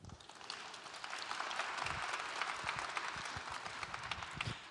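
An audience claps for the principal timpanist of the Oregon Symphony, a scattered round of applause that swells to a steady patter, with distinct individual claps standing out near the end.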